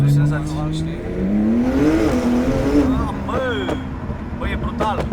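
A Porsche Turbo S launching hard, its engine note climbing steadily in pitch as it accelerates, loud and close from inside the car, with people talking over the engine.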